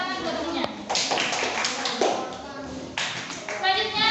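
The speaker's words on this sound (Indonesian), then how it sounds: "Ya, tepuk tangan buat temennya." Children in a classroom clapping for their classmates, a lively run of close hand claps in irregular bursts mixed with light taps and thumps, with children's voices in the background.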